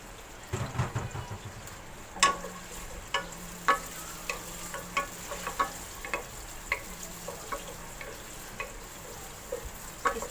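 Onions sizzle in hot oil at the start of a whole masoor (lentil) pulao, with a steady low fry under repeated sharp clicks and scrapes from stirring.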